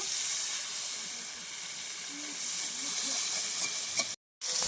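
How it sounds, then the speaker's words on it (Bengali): Tomatoes fry in a pan for a young-jackfruit biryani, giving a soft, even hiss of sizzling oil. A brief, abrupt silence comes near the end. "টমেটোগুলো একটু ভেজে নেব"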